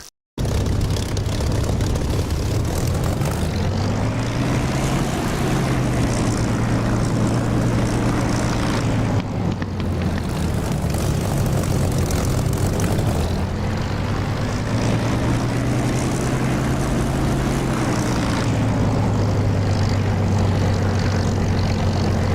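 Propeller aircraft engine in the DCS flight simulator, a steady loud drone with rising and falling pitch as the plane rolls on the runway for takeoff, continuous and without talk.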